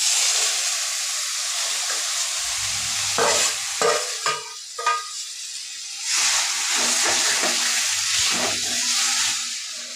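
Eggplant bharta with salt and turmeric is sautéed and stirred in a hot pan, giving a continuous close sizzle with scraping and stirring strokes clustered in the middle, then settling back into steady frying hiss.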